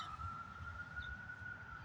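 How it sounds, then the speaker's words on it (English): A steady, faint siren wail drones in the distance over low background rumble, heard at an old pioneer graveyard in Boise. "Those are the sirens."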